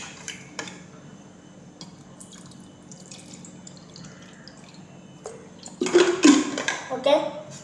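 Cold water pours into a bowl with a splashing, gurgling run that swells near the end, preceded by faint clinks and drips.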